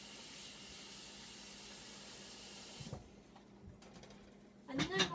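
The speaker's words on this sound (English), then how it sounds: "I just run it under my faucet." Tap water runs steadily under a kitchen faucet as a whole head of garlic is rinsed, a broad hiss that stops partway through, followed by a few brief clinks and handling sounds.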